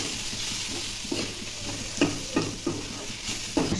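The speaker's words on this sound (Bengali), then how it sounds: "এখন একটু নাড়াচাড়া করি," Spices with salt, chilli, cumin and turmeric being stirred and sautéed in a pan for a dried-fish chutney; a steady sizzle runs throughout, with a few sharp spoon scrapes and knocks against the pan close by.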